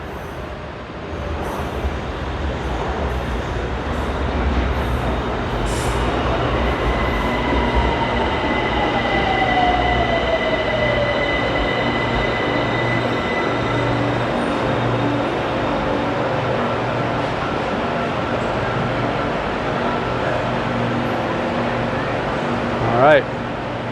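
A Bangkok BTS Skytrain rumbles in and slows at a station, with a gliding electric whine, a steady low hum and a brief metallic squeal near the end.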